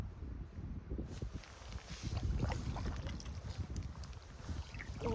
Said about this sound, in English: this wind is, these gusts are blowing me around